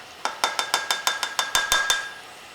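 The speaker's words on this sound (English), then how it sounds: "we're going to mix milk with flour" A utensil rapidly whisks or stirs milk and flour together in a container, about a dozen sharp, evenly spaced clinks and taps against the sides, close and clear with no talking.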